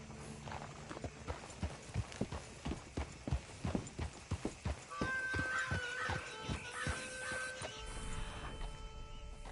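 A horse's hooves clip-clop at a steady walking pace in Red Dead Redemption 2, evenly spaced thuds that blend into busier clattering and music-like tones toward the end.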